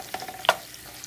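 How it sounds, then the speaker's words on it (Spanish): Shrimp frying in hot oil, a short burst of crackling sizzle with a few sharp spits and pops, one louder pop in the middle. "mi aceite caliente y añadí los camarones ahí."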